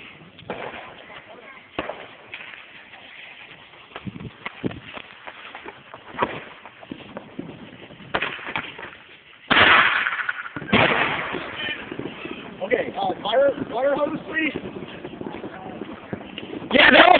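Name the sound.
firecrackers taped to a Barbie doll exploding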